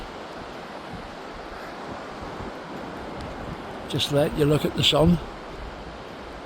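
Sea waves wash on the shore in a steady, soft, continuous rush with some wind, and someone speaks briefly near the end.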